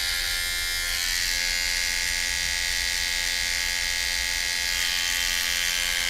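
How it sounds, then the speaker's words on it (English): An electric toothbrush buzzes steadily as its back is pressed against tomato flowers to shake pollen loose, a loud, close, continuous whine with no talk over it. "You can hear it going. It's me toothbrush."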